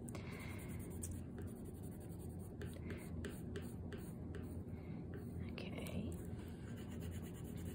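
Close, quiet scratching of a colored pencil pressed hard on paper in short repeated strokes, with soft whispered speech underneath.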